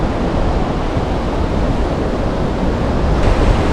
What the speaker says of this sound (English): So this is the Royalton Beach.